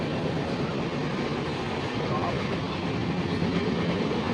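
Steady rumble and rattle of the Vivek Express train (22504) running, heard from inside a crowded sleeper compartment, continuous broadband noise with faint clatter throughout and no clear speech.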